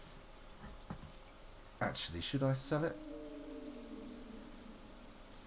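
Rain falls in the farming game Stardew Valley, a steady soft hiss through the whole stretch, joined by a brief burst of game sounds and a low, drawn-out moaning tone while someone talks over it.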